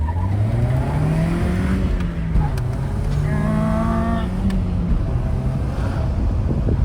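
A Mercedes SLK with the 2.3 litre M111 four-cylinder engine drives along with a loud, steady drone whose pitch rises and falls as the car accelerates and eases off.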